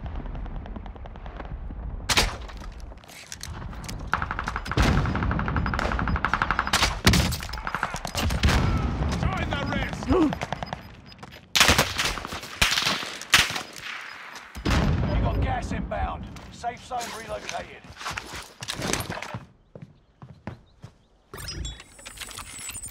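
Rapid gunfire from Call of Duty Warzone, with bursts and single shots cracking loud and close at irregular intervals, some more distant, mixed with game ambience and occasional talk.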